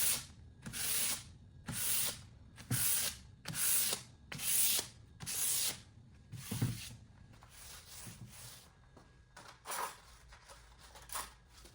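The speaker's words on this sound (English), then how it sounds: "Between coats, I did lightly sand with 400 grit sandpaper." Light hand sanding with 400 grit sandpaper between finish coats on a mid-century modern nightstand: about a dozen soft, even rubbing strokes in a steady back-and-forth rhythm, close and fairly quiet, no talking.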